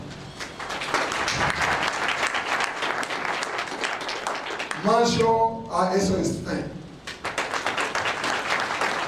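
Sustained, dense applause fills a hall at the opening of a farmers' federation's sharing days, thanking technical and financial partners; a voice speaks briefly over it midway before the clapping surges again.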